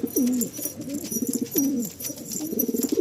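A pair of Fulsira pigeons coo close by, their low rolling coos repeating in steady bursts with no voices over them.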